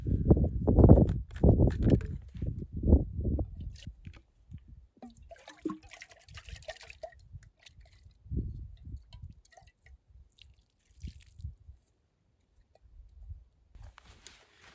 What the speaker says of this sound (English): I just gotta rinse it out.